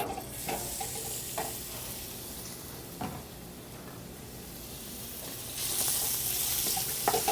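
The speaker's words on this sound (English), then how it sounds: "Just gonna start that off in a little bit of oil, some ground beef." Ground beef sizzles in a little oil in a restaurant kitchen, the start of a pot of dirty rice. A constant frying hiss is broken by occasional stirring knocks, and the sizzle grows louder toward the end.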